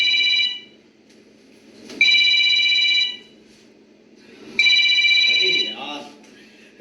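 A mobile phone ringing with an incoming call in a staged solo play: two loud, shrill electronic ring bursts about two and a half seconds apart, each decaying into a quieter background hum, with the ringing cut off near the end.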